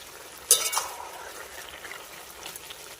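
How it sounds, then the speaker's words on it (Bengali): Fried lentil bori are stirred into a bitter vegetable tita curry, giving a short burst of spoon scraping and soft clinks near the start before the pot falls quiet. "এবার আমি ভেজে রাখা বড়িগুলোকে দিয়ে দিচ্ছি ভালো করে মিশিয়ে নেব"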